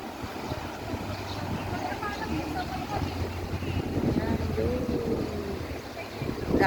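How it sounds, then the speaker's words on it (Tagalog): Seaside wind at a boardwalk in Sabang buffets the microphone in a steady, rumbling low roar with faint distant sounds, a voice talking over it briefly. "Mahangin."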